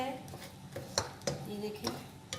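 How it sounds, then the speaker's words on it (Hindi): Spoon scraping and clinking against a pan while dry-milk khoya cooks, sharp metallic knocks at irregular intervals over a low steady background, with a voice faintly underneath. "बस हल्का हल्का इसमें चम्मच चलाते रहें और साइडों से भी उतारते रहें कि ये साइडों पे लग ना जाए।"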